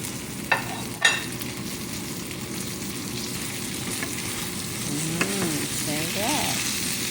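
Vegetables frying in a pan with ground meat and tomato, a steady close sizzle throughout with a couple of sharp clanks of a utensil near the start and brief stirring scrapes toward the end.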